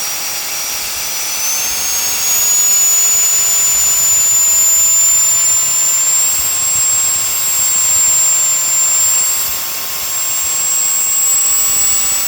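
Reikiya mini handheld cordless vacuum cleaner running in blowing mode, a loud, steady high-pitched motor whine with airy rush that rises slightly in pitch early on and then holds constant, close up, without talk.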